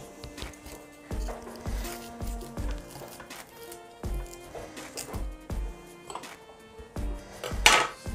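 Cut cauliflower florets drop into a bowl with a run of close, clattering knocks and taps against the dish, irregular and fairly soft, with no one talking.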